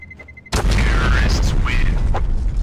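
In the shooter CS:GO, a planted bomb detonates in a sudden loud blast after a quiet lead-in with faint beeps, followed by a long rumbling roar and scattered debris sounds that fill the rest of the moment.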